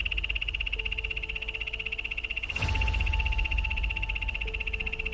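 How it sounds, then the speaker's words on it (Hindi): A poison dart frog calls near a jungle pond with a steady, high-pitched continuous trill that holds the whole time. A brief rustling burst breaks in midway, over a constant natural background hum. "दरअसल ये एक मेंढक की आवाज थी जिसका नाम पॉइजन डार्ट फ्रॉग है"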